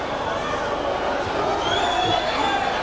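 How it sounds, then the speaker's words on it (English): A large boxing-arena crowd roars in a steady, dense wash of cheering and murmur, rising slightly and staying loud throughout without clear separate punches. "the crowd reacting to everything he throws"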